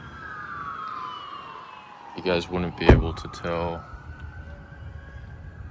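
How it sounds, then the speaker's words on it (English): Fire engine siren from a nearby fire station, a wailing tone sweeping in the background for the whole stretch while someone talks briefly over it up close beside a parked Acura ILX. "I'm next to a fire station, so you're gonna hear the sirens"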